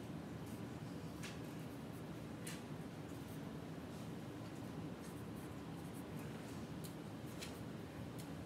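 Marker or chalk strokes scratch across a classroom board in short, faint bursts with pauses between, close and quiet over a low background hum.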